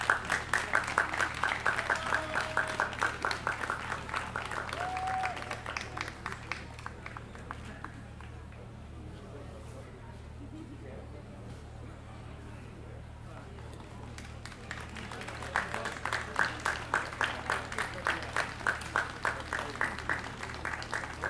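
An audience bursts into applause for a prize winner at a music festival, rhythmic clapping that fades to murmur midway, then swells into strong rhythmic clapping again.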